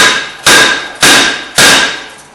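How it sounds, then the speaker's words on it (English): Three loud, ringing metallic strikes of a hammer on a brake rotor of a 2008 Toyota Highlander, spaced about half a second apart, each clang decaying before the next hit. "you can take a hammer and just tap on it and sometimes it'll pop off"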